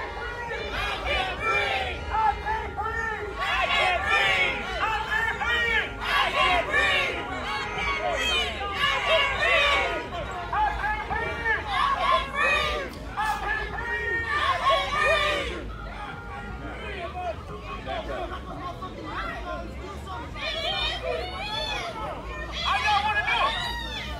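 Protest crowd outside the East Peoria Walmart, a dense babble of many voices with shouts and chatter rising and falling, steady and close throughout.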